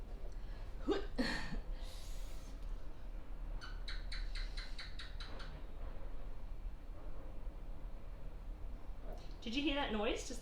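A gecko's series of sharp, rapid clicking chirps rings out in a quiet room, with a few other brief calls at the start and end.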